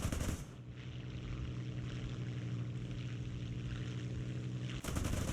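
Sustained rapid gunfire in an aircraft dogfight video game, a dense continuous machine-gun rattle over a steady engine drone, loud and unbroken for several seconds before stopping abruptly near the end.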